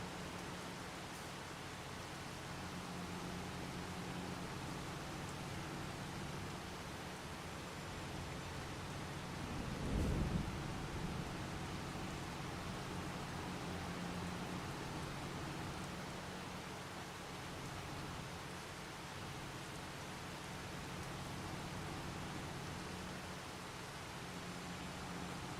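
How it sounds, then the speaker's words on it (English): Steady rain in Farming Simulator 25, a soft continuous hiss of falling water at low level with one brief swell midway, no voices. "Now, how long is it going to rain for?"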